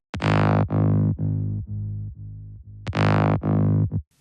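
A thick, distorted synth bass plays a series of sustained notes, each with a sharp buzzy attack fading down, alone with no voices.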